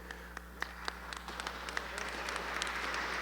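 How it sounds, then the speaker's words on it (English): Audience applause at a panel discussion on economic policy, scattered early claps building into a fuller, sustained patter, fairly faint and distant over a low steady hum. "Wow, our first applause."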